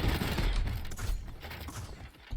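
Rapid gunfire from a weapon boosted by Storm of Bullets in a shooter video game, a dense continuous burst of shots at steady loudness with no talk.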